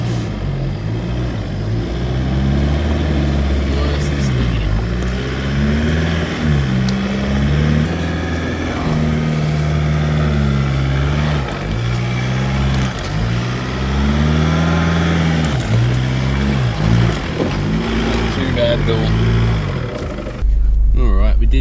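A 4WD vehicle crawls down a rough off-road track in Goomburra Valley near Brisbane, its engine loud and close, rising and falling in repeated revs throughout with bumps and rattles.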